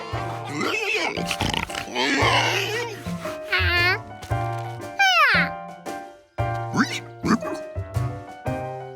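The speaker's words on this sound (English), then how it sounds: "There were cows, hens, and little Mike, George's favorite pig." Animated oinks and squeals from a small cartoon pig in Curious George, mixed with cartoon animal noises and a voice talking, close and lively throughout.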